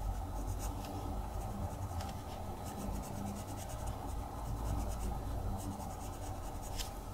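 Pencil colouring a sunflower drawing in olive green, a steady dry scratching and rubbing of lead on paper that continues without a break at close range, with no voices.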